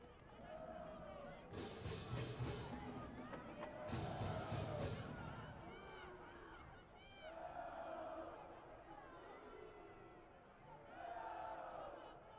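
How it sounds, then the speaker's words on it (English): A stadium crowd chants in waves at a college soccer match between USC and Washington State, rising and falling as a distant, reverberant mass of voices. "the crowd chanting, "Go Cougs," indeed, as they're trying to will their team to tie this game"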